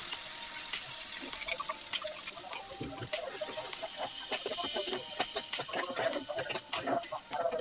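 Spice paste sizzling after being added to hot oil tempered with dried chillies in a wok, for a Bengali crab curry, a steady close crackling sizzle with dense pops throughout.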